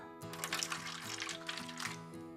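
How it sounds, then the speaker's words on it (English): A little milk poured into egg batter makes a soft, brief liquid splash over steady background music. "next I'm gonna add just a little bit of milk"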